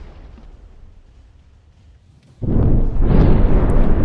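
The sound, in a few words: battlecruiser explosion in video game From the Depths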